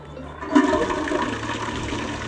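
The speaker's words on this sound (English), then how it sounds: "Is this water that is running?" Water gushes from a tap, a close, steady rushing and splashing that swells in after a quiet start and keeps flowing without talk.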